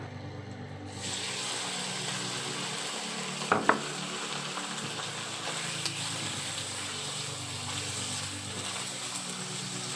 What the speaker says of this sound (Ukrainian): Як тільки наша сковорідка розігрілася, додаємо в неї нашу печінку.